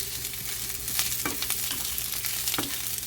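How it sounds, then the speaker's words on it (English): Onion and garlic sautéing in oil in a pan for a beef stir fry, a steady close sizzle with a few scraping stirs of a utensil against the pan. "we are just going to put our onion and garlic at the same time. Just saute this until it's caramelized"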